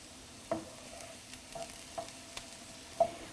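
Onions frying in a pan as part of egg bhurji, stirred a few times with soft spoon taps and scrapes over a faint, steady sizzle, heard close up with no talking.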